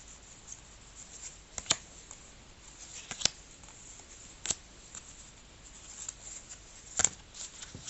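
Tarot and oracle cards shuffled by hand, soft papery rustling with a few crisp snaps at irregular moments, quiet and close, with no voice over it.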